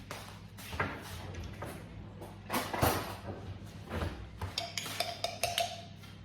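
Metal cutlery and dishes clink and rattle in a home kitchen as another spoon is fetched, with scattered sharp taps and clatters, a drawer-like thud, and a brief ringing metallic chime near the end.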